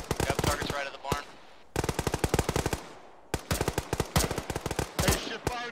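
Loud machine gun fire in the Arma military game, close by, arrives in several rapid bursts with short pauses between them.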